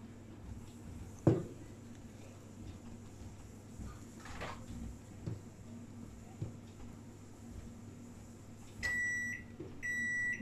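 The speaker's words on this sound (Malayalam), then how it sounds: "ഇപ്പോൾ ഓവൻ എന്താ പ്രീ ഹീറ്റ് ആയിട്ടുണ്ട് കേട്ടോ, അവിടെ സൗണ്ട് കേട്ടിട്ടുണ്ട്." A kitchen oven beeping once it finishes preheating, a short series of electronic beeps near the end after quiet room sounds and a single knock.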